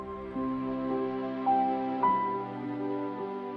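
An orchestral piece plays back with all mixing plugins switched off, so the sustained chords and stepwise note changes come through drier and somewhat quieter throughout.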